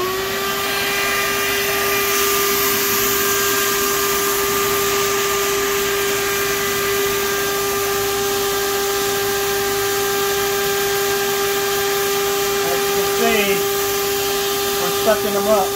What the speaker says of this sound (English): So while I'm watering, I'm going to vacuum as well.